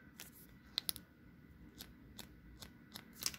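Scissors or cutters snip through a plastic part from an Entry Grade Build Strike Exceed Galaxy model kit, several crisp separate clicks spread out over a quiet background.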